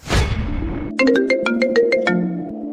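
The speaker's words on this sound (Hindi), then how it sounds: "किसी का फोन आ रहा है" After a brief burst of noise, a phone ringtone plays a bright, repeating melodic pattern of quick tones, close and clear, with no talking.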